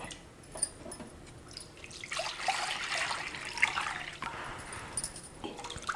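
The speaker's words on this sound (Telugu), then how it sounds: "పప్పు ఉడకడానికి సరిపడా నీళ్లు వేసుకుందాం" Water pours in a steady, splashing stream into a cooking pot for boiling lentils, soft at first and then fuller and louder, close at hand.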